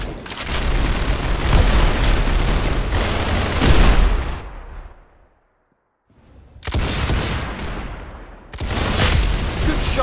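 Rapid bursts of gunfire from the Roblox Arsenal video game, dense loud volleys interrupted by a short silent gap, then resuming, with no talk.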